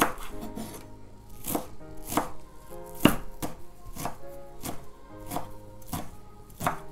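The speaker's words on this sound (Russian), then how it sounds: "Теперь берем укроп и мелко его нарезаем." Knife finely chopping fresh dill on a board, a quick, even rhythm of close, crisp chops repeating across the whole stretch with no voices.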